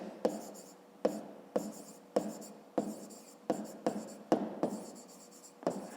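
Pen strokes scratching across paper during a fifth-grade maths exercise, arriving in about ten short bursts, each a sharp onset that fades away. Close and fairly quiet, with no talk over it.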